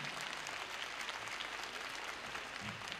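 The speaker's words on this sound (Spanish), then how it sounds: "¡Dale un aplauso a Manila el Gorila!" Crowd applause at a 1981 concert in Estadio Obras, a continuous, faint and distant wash of clapping from a large audience that holds steady without a break.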